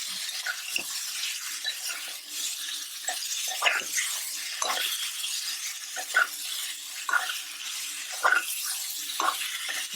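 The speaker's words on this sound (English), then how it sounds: "So the oil is hot, so I'm going to just put my prawns in just like that" Prawns sizzle in hot oil with a steady bright frying hiss, while a spoon or spatula scrapes and stirs the pan in irregular soft clicks, fairly quiet and close.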